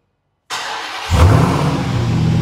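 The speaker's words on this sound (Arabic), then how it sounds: "خلينا نسمع الكولد ستار" A 2024 Dodge RAM TRX pickup truck engine cold-starts, cranking and firing up abruptly, then revs once with a deep roar and settles into a loud, rumbling idle close by.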